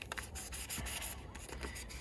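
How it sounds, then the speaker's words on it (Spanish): Sandpaper rubbed over the edges of a Game Boy Pocket back cover, a steady close scratchy rasp in short repeated strokes, with no voices. "con la tapa trasera pues haré lo mismo, iremos lijando poco a poco"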